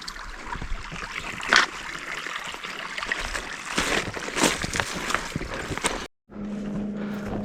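A mountain creek at the low point of a valley rushes and gurgles close by while someone crosses it on foot, a steady broadband wash that cuts out briefly near the end before a quieter hum returns.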